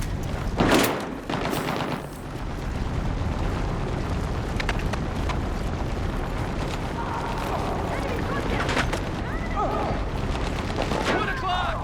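Dense automatic gunfire and explosions in Battlefield 6, covering fire rattling continuously with booms and bursts layered over a steady, loud battlefield roar, shouted voices mixed in.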